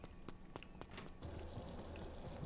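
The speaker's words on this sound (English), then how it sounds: "And the water's still running." Steady water running in the video game Beacon Pines, a continuous broadband rush that takes over partway through after a stretch of quieter, scattered ticks and clicks.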